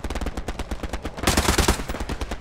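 Rapid gunfire in the World War II video game Hell Let Loose, with loud, close, repeated shots in quick bursts that thicken into a dense volley near the middle, and no speech.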